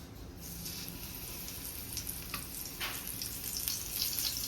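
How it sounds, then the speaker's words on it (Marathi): Pomfret fish coated in semolina fries in hot oil, a soft continuous sizzle with crackling bursts building toward the end, fairly quiet and close, no talking. "आता आपण हे पापलेट फ्राय करून घेऊया।"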